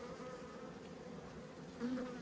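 Honey bees hum steadily at an opened hive in late winter during an inspection, a continuous even drone close by that swells slightly louder near the end.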